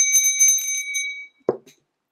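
A bell rung as its clapper strikes the inside, giving a bright sustained ring with steady overtones that fades after about a second, then a short low knock and brief rattle.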